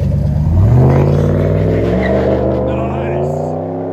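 A 2012 RAM 1500 with a 5.7L Hemi V8 and Flowmaster Flow FX exhaust revs loudly and close, its deep rumble climbing sharply and then easing back into a steady, throaty idle.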